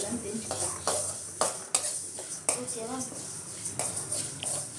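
Cardamom pods dry-roasting in a pan are stirred with a spoon, giving repeated sharp scraping and clinking strokes against the metal over a faint sizzle. A voice talks over them.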